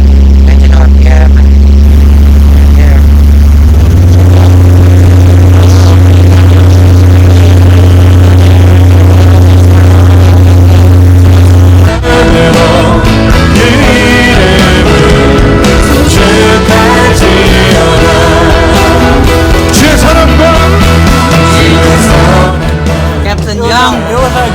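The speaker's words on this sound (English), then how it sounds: "We're just waiting for the airplane to warm up" A Cessna R182RG light aircraft's engine runs steadily while warming up after start, a loud continuous drone that shifts into a busier, rougher tone about halfway through and holds close by.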